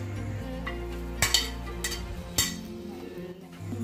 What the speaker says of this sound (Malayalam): ഇനി നമുക്കിതിലേക്ക് ഫ്രൈ ചെയ്ത് വെച്ച ചിക്കനും കൂടി ചേർത്ത് കൊടുക്കാം